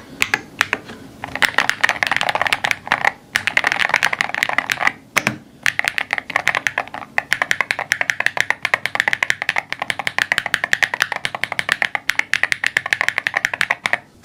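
Fast, steady typing on a Chilkey Slice68 HE rapid trigger mechanical keyboard, a dense stream of crisp close-up keystrokes with one brief pause near the middle and no talking.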